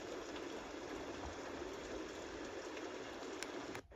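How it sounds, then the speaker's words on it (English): A white-noise sound machine plays its rain-on-a-yard setting, a steady, even hiss of falling rain that holds constant at moderate volume before dropping off abruptly near the end, with no voices. "The ninth sound is rain on your yard."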